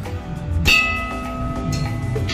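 A school bell at a science park is struck once and rings with a sustained metallic tone that lingers under background chatter.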